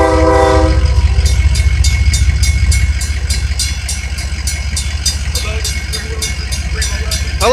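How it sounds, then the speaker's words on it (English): A CSX F797 freight train passes on Bramlett Road in Greenville, South Carolina, opening with a brief loud horn blast, then a heavy nearby rumble with rhythmic clickety-clack of wheels over rail joints. "There's a CSX F797 in Greenville, South Carolina."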